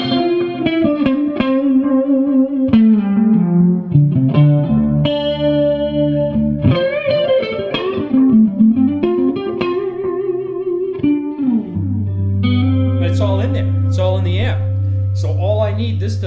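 An electric guitar plays through a Gainmaster sustain device into an amp, with melodic notes ringing out, bending and sustaining long, ending on a held low chord; the tone sounds effected and slightly driven.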